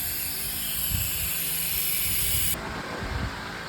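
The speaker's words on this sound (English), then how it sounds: "Vacuum pumping out, 5 years of nastiness." Vacuum pump sucking old fuel out of a tank that sat for five years, a continuous loud hiss with gurgling low rumbles, shifting tone partway through.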